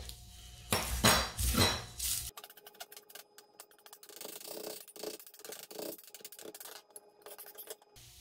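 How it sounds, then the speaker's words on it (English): A knife chops fresh cilantro on a cutting board for roasted tomatillo salsa verde, giving a run of quick, close, uneven taps after a brief louder clatter at the start. "we'll cut up some of our fresh cilantro"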